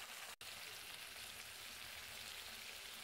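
A ground paste of cumin, green chili and black pepper sizzles in a pan with dried red chili, making a close, steady, hissing fry. There is one brief dropout near the start.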